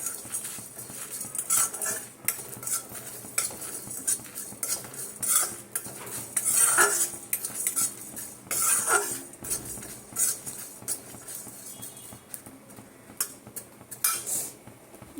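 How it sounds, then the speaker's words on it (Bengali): Whole spices are dry-roasted in a hot kadai, with a spoon repeatedly scraping and clinking against the metal in an uneven rhythm, close and fairly loud, with no talk. "এটাকে ভেজে নেবো কড়াটা আমার গরম ছিল"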